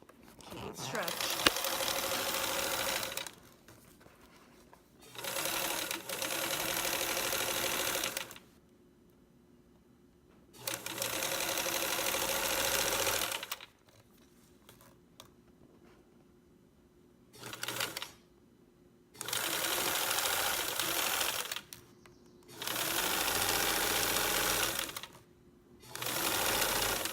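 A sewing machine stitching stretched fabric runs in repeated bursts of rapid mechanical whirring, each several seconds long, separated by pauses where a person talks.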